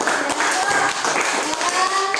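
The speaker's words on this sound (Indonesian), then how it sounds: "tepuk tangan dulu untuk kita" Applause fills a classroom or hall at a teacher training session, with steady clapping throughout and some voices mixed in.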